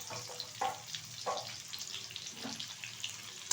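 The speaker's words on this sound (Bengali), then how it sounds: "তেলটা গরম হয়ে গেছে, তেলের মধ্যে দিয়ে দিচ্ছি একটা বড় সাইজের কুচিয়ে রাখা পেঁয়াজ" Chopped onion drops into hot oil for mixed fried rice and fries with a soft crackling sizzle, marked by a few brief clatters of a utensil close by, with no talk.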